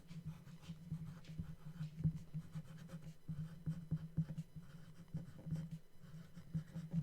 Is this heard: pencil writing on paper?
yes